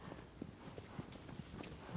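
Horse hooves clip-clopping over terrain in the video game Shadow of the Colossus (Remake), a quiet, steady rhythm of footfalls with a faint ambient wash behind.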